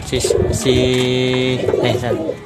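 Racing pigeons coo close by in a loft, with several overlapping low, throaty, rolling calls in a steady run over a couple of seconds.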